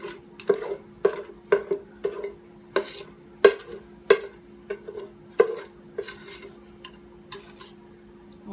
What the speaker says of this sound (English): So we're just gonna take this and put it in this pan.